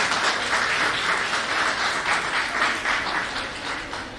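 Audience applause welcoming a speaker at a national seminar on startup ventures, dense sustained clapping from a large hall crowd, loud and steady before slowly easing off.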